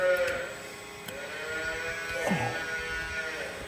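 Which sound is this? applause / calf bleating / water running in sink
calf bleating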